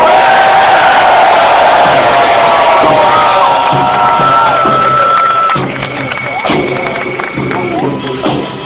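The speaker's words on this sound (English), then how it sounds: "Slight cheer, please, for Tycho!" A crowd in an arena at a gladiator games event in London Guildhall cheers loudly for the gladiator Tycho, a sustained roar with shouts and whoops that eases slightly toward the end.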